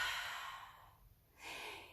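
Yoga breathing: a soft, airy exhale trailing off, a brief pause, then a fresh breath drawn in, faint and close with no talking.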